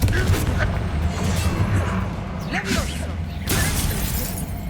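Bombarda and Confringo spells go off in Hogwarts Legacy as a dense run of crackling blasts and shattering impacts, loud and continuous, with a voice calling out spell names over the explosions.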